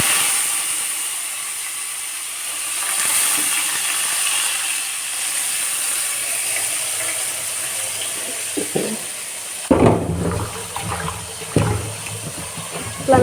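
Ingredients being rinsed in water in a home kitchen: a steady hiss of running water, then sharper splashing and sloshing near the end, close by.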